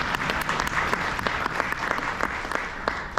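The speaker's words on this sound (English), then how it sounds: "So give yourselves a round of applause." Crowd of children's champions, fundraisers, family and friends claps at a charity gathering, a sustained, even wash of applause with individual claps popping out, moderately loud and unbroken throughout.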